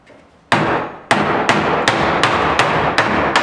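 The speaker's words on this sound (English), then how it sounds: "Take a hammer." A hammer strikes the brick mold trim of an exterior door frame while it is pried off for a pre-hung door replacement: one sharp knock, then a steady series of about seven evenly spaced, close, loud taps with no talk.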